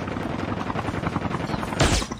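A sniper rifle shot rings out in a Call of Duty battle royale match, one loud, sharp blast near the end cutting through a busy, steady bed of game noise and clatter.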